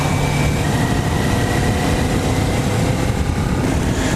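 Kawasaki Ninja 400 motorcycle engine idling, a steady low rumble from the exhaust with a constant hum and no change in revs, loud and close, with no voices.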